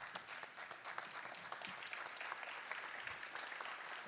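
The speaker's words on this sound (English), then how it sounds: "Please, folks, on your feet, give them a round of applause for their strength" Symposium audience rises in applause, steady dense clapping from a crowd heard at low level and continuing without a break.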